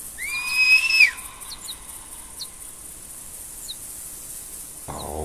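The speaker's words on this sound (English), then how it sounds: "Maybe I should whistle to make it fly." A hunting whistle is blown to flush a pheasant in theHunter 2016, a hunting video game. One clear two-tone whistle sounds near the start, followed by faint scattered bird chirps over quiet outdoor ambience and a short click at the end.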